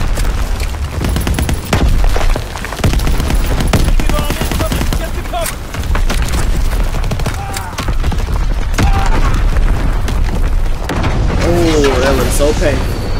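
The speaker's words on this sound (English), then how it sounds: "Incoming enemy artillery. Get to cover." Enemy artillery shells burst in Call of Duty WW2 gameplay, with loud, dense booms and rattling gunfire filling the whole stretch while voices talk over the battle.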